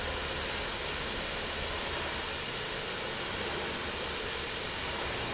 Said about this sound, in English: You can hear the hydraulics. I think the flaps have extended